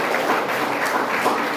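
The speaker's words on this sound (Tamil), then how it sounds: "கைத்தட்டலாமே" An audience of college students claps together at a career guidance programme in Erode. The applause is dense, steady and close, lasting throughout with no voices.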